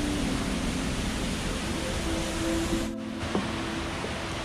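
Steady rushing water from Neelgiri waterfall near Rishikesh, a dense broadband roar that continues without a break for the whole stretch, with faint scattered background sounds mixed in.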